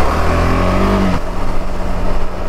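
Motorcycle ridden along a jungle road, its engine note rising in a revving climb before dropping back to a steady, rougher drone, close and loud with no talk.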